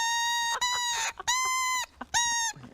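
A lone double reed, blown without its instrument, gives three or four short, buzzy, duck-like squawks in quick succession, loud and close.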